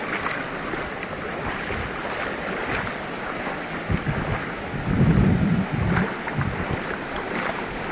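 Waves wash in steadily at Sao Beach on Phu Quoc with wind rumbling over the microphone, a continuous broadband roar and a louder surge about two thirds of the way through.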